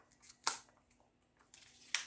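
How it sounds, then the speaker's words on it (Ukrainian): Paper surprise packet being torn and opened by hand, a few sharp, close crinkling rips separated by short quiet gaps, faint overall and with no talking. "Так, ми сьогодні відкриваємо отакий пакетик."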